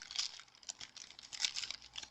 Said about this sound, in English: cutting it inside the bag to try to make it a little less messy